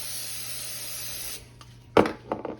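Cooking spray hisses steadily from a can into a measuring cup in a kitchen for about a second and a half, then stops, followed by a few light knocks and handling clatter nearby.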